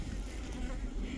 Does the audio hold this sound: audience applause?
no